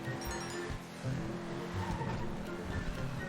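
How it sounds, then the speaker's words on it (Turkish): Grotti GT500 car accelerating in GTA 5 Online, an engine roar with tire noise holding at a steady moderate level, with faint talk mixed in. "Ben şöyle bir hızlandırmasına bir bakalım nasıl hızlanmış."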